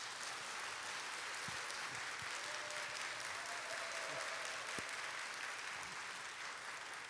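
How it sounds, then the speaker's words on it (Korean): Church congregation applauding steadily throughout, a dense sustained clapping from a large audience indoors, with a few faint voices under it. "박수로 모시겠습니다."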